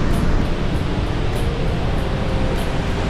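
Niagara Falls roars as a loud, steady broadband rush of falling water, dense and continuous throughout with no voices.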